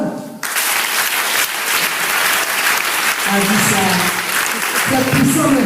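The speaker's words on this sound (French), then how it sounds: "Acclamez-vous." A church congregation at a Sunday service bursts into sustained clapping after a brief pause, loud and dense throughout, with a few voices rising beneath the applause toward the end.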